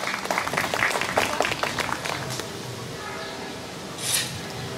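Audience applause at a book festival author meeting, a dense burst of many hands clapping in the first half that thins and fades, followed by quieter room noise and a brief rustle near the end.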